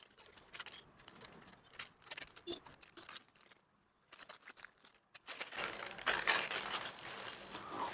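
A plastic-wrapped bike protection cover is opened by hand, giving close, irregular crinkling and tearing of the plastic packaging that grows louder and denser toward the end, with short pauses in between.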